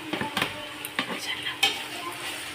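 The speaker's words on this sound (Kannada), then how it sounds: "ಆಮೇಲೆ ಶುಂಠಿ ಬೆಳ್ಳುಳ್ಳಿ ಪೇಸ್ಟ್ ಹಾಕೋಣ ಹುರ್ಕೋಬೇಕು ಫ್ರೆಂಡ್ಸ್." Ginger garlic paste frying in a pan, a steady sizzle with stirring scrapes and a few utensil clicks against the pan, close and alone.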